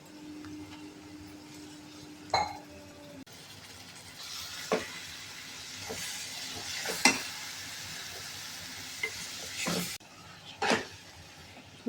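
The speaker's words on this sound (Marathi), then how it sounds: "छान परतून घ्यायचं चांगल्या तेलामध्ये।" Fresh coconut paste sputters and sizzles in oil in a pan, with a steady frying hiss broken by several sharp scraping stirs and taps of a spoon, close up and with no voices.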